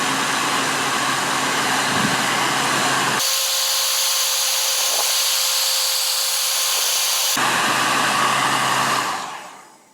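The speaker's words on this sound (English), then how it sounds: "use the heat gun like this and go over the plastic" A heat gun blasts over plastic laid on a skull form, a loud steady airy roar that shifts in tone twice as it moves or changes setting, then winds down at the end.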